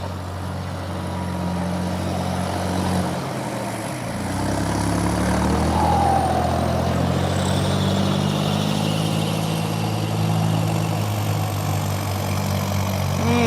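A John Deere 5076E or 5075E tractor engine running at a work site, a steady low diesel drone with a firm harmonic hum that steps up slightly partway through and continues alone.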